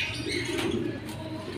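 Soft cooing from imported pigeons in a loft, a short low warbling coo close by with faint background noise.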